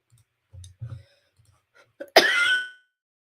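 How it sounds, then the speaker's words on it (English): A few soft throat sounds lead into one sharp, loud cough up close, then silence. "Sorry, I'm coughing."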